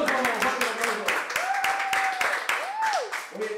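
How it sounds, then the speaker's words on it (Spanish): An audience claps and applauds throughout, with a steady patter of hand claps mixed with cheering voices and a whistle. "Un aplauso, un aplauso."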